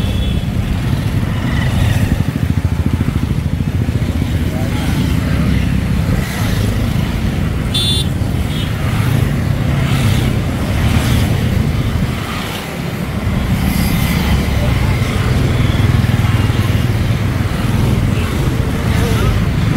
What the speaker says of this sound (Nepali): मोटरसाइकल र्याली निकै लामो देखिएको छ